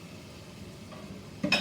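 Tomatoes, mushrooms and capsicum go into a hot pan for beef chilli, with a soft low sizzle and stirring, then a brief louder clatter and hiss as they land near the end.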